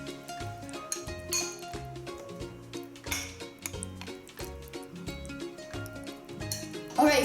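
A spoon clinks and scrapes against a pot while stirring bechamel sauce for lasagne alla bolognese, with rhythmic taps over soft background music.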